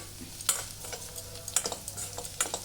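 A spoon stirs turmeric into a ridge gourd curry in a pan, making intermittent close scraping strokes over a soft steady sizzle.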